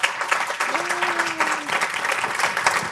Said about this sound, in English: we can give our panel a round of applause